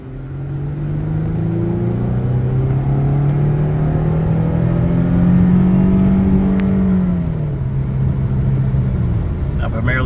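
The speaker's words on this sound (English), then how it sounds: "just wanted you to get a sense of the gear shifting" A car accelerates from a green light as a passenger records inside the cabin, its engine note climbing steadily and then dropping with a gear shift near the end, a constant close whir under occasional talk.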